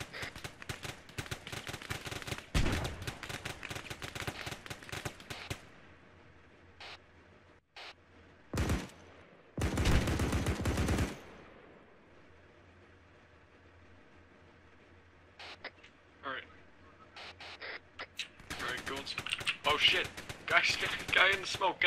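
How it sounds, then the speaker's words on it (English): Grenade blasts and gunfire in the Arma 3 military shooter, desert combat: several loud broadband bursts, a sharp blast near the middle, then sustained rapid firing toward the end, with quieter stretches between. "That was a grenade, yeah?"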